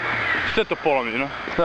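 Crows cawing outdoors in a flood-damaged area, a few harsh calls briefly audible beneath a person talking.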